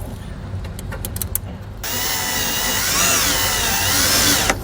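A power drill drives a self-tapping screw into the body metal of a 2012 Subaru while fitting a trailer wiring harness. A few light clicks come first, then a loud, close whine that rises in pitch for nearly three seconds before it cuts off.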